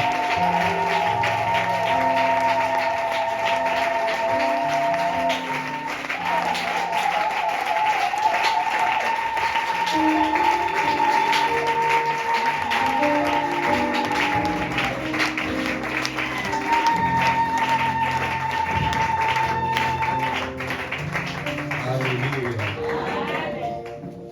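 A church congregation applauds loudly to welcome a pastor at the closing service of a month of fasting and prayer. The clapping runs on continuously alongside sustained keyboard music.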